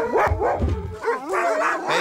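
Greenland sled dogs on Svalbard give short, close barks and yips mixed with whimpering, loud and continuous for a couple of seconds.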